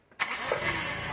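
A Toyota Tamaraw FX with a clogged carburetor cranks and catches, its engine starting with a sharp burst and settling into a steady, close idle.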